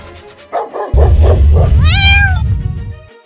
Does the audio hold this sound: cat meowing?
yes